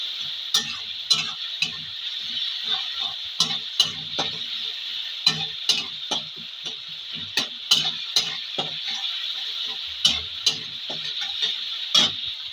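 Singhi fish curry in a pan being stirred after adding salt, green chilli paste and coriander leaf paste: repeated sharp spoon scrapes and taps against the pan over a steady high sizzle, close and clear.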